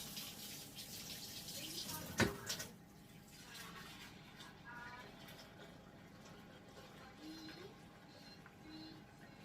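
Hot tap water gushes into a bowl with washing-up liquid for cleaning smoking utensils, a loud splashing rush for about two seconds before it cuts off, leaving faint drips and small handling sounds.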